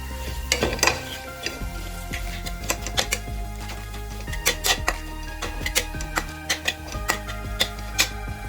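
Mashed potato stirred into a frying pan for beef cutlets, with close clicking taps of a spoon against the pan in irregular bursts over a low sizzle, no talking.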